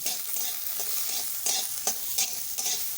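Chopped ginger and four green chillies frying in hot oil in a pan, a continuous close sizzle punctuated by a few brief stirring scrapes, with no talking.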